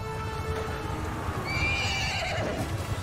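A horse in Mount & Blade II: Bannerlord gives a short, clear neigh over soft clip-clopping hooves, moderately loud against a steady game background.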